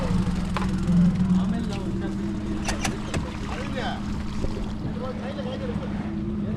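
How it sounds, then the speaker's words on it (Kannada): A boat heading out across the sea carries a steady engine drone and rushing water and wind, loud and close, with a few knocks and people talking over it. "ಬೋಟ್ ಸಮುದ್ರದ ಮಧ್ಯೆ ಹೋಗ್ತಾ ಇದ್ದೀವಿ"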